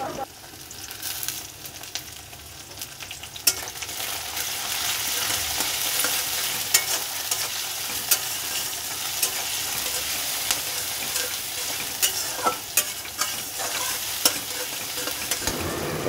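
Garlic paste and chopped green chilli sizzle in a hot pan, a constant close frying hiss broken by sharp scraping stirs and occasional spatula knocks throughout, with no talking.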